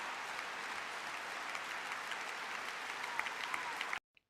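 An audience applauds at the 2018 Labour Party conference, a steady wash of clapping heard from a distance that runs evenly for about four seconds and then cuts off abruptly.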